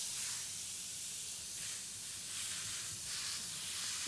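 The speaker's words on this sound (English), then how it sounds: "Wow, there's so much water pressure coming out of this hose." A garden hose sprays water under high pressure, producing a steady, bright hiss that swells slightly as the spray shifts, heard alone and fairly quiet.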